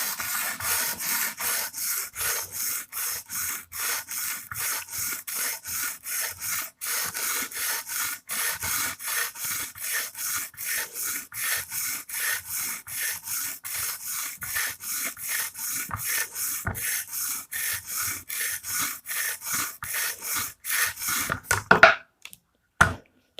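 An Emerson Karambit Tanto knife with a chisel grind being sharpened: fast, even rasping strokes on an abrasive, close and steady for over twenty seconds, ending in a few louder knocks.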